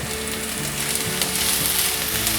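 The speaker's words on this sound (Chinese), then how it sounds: "把红萝卜炒软" Carrots being stir-fried in hot oil in a wok alongside shiitake mushrooms: a loud, steady close sizzle with brief stirring scrapes throughout.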